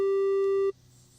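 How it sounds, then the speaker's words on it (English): A triangle-wave tone from the Massive software synthesizer sounds as one steady, loud, pure-ish pitched note with a faint buzzy edge for about two-thirds of a second, then cuts off abruptly into quiet. "Triangle wave looks like a bunch of little pyramids lined up next to each other. So it has that sort of ringing sound"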